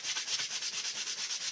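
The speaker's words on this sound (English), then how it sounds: "Let me just rub this." Dried alcohol ink on foil is rubbed briskly, a close, soft scratchy swishing repeating in quick, even back-and-forth strokes.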